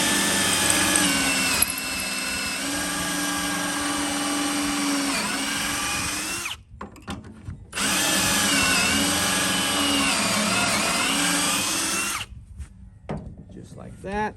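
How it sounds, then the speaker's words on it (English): A power drill with a Kreg jig pocket-hole bit bores into a 2x4, two long, loud, steady whining runs separated by a short pause, with pitch dipping slightly as the bit bites into the wood. "and drill 2 pocket holes down into each side of the 2x4."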